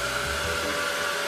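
A hair dryer blows steadily and loudly at close range over a stencilled Bible journaling page, a constant airy whoosh with an electric whine and no pauses.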